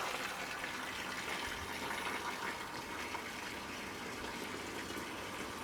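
A bilge pump on a boat pushes water out in a continuous, even gush and splash, moderately faint and steady throughout, with no talking.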